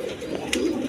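Pigeons with pomegranate-coloured eyes coo in a low, soft murmur, close by and without talk.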